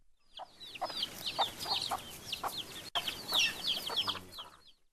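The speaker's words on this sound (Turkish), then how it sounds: "civcivi kendine getirdik ve kardeşlerinin de annesinin yanına katarak hayata döndürmeye başardık" High, rapid peeping from a chick mixes with soft low clucks from a hen nearby. The calls come in quick repeated bursts with no talking.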